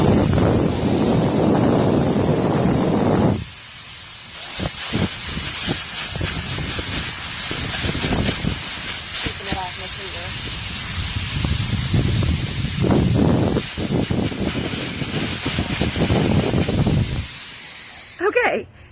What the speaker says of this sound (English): I'm putting it up to 12, which is the highest. I'm just letting it kind of run through. See, it's a little funky because it's like splattering.